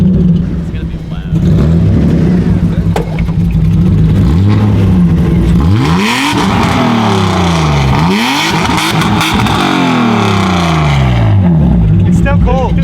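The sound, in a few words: loud BMW E36 engine revving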